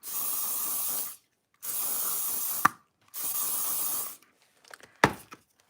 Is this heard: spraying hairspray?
yes